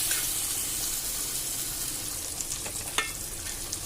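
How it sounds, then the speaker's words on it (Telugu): Fish pieces frying in lightly heated cooking oil give a steady, close hiss of sizzling, with a few sharper pops and crackles near the end and no voices. "ఆయిల్ వేసుకున్న తర్వాత ఇలా కొంచెం వేడయ్యాక ఈ చేపలను వేసేసుకున్నాం."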